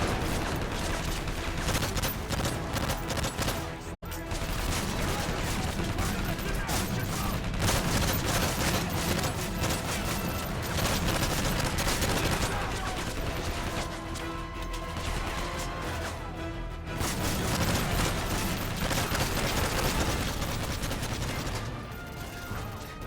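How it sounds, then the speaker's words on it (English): Heavy, dense gunfire from the video game Call of Duty MW3 campaign, continuous rattling bursts and explosions, loud throughout with brief gaps. "That was a tremendous amount of gunfire in just a split second there"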